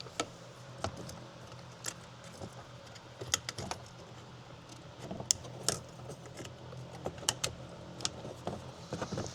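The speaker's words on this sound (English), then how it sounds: "Let's get the keys real quick" Car keys jangle and clink in short bursts beside a Ford Expedition during power seat and window troubleshooting, with sharp metallic ticks scattered over a low steady background hum.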